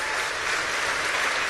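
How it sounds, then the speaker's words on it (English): A crowd at a Tim Kaine campaign rally in Bethlehem, Pennsylvania applauds, a dense, even wash of clapping filling the hall steadily throughout. "Give them a big round of applause."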